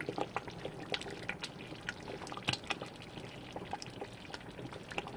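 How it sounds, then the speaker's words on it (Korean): Thick aronia berry jam boils in a pot over low heat while being stirred, giving irregular close wet pops, plops and spatters with no talking. "이게 지금 막 끓으면서 막 옆에 튀거든요"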